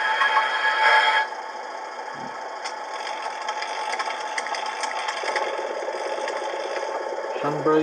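Deutz KG230B diesel locomotive sound played from a Lenz O gauge model's speaker: a steady mid-pitched engine drone with rattling texture, louder at first, then a lower idle with a few clicks.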